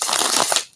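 Tarot cards riffled in a quick shuffle, a dense papery flutter that runs steadily, close and fairly loud, then trails off near the end.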